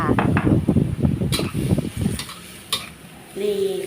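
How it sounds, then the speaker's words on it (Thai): Shrimp and cabbage stir-fried with sauces, seasoning and sugar in a pan, giving a run of scraping, stirring clatter with a light sizzle. Occasional utensil clinks sound against the pan, and a short hum comes in near the end. "พัดคลุกเข้าส่วนผสมต่างๆให้เข้ากันจ้า"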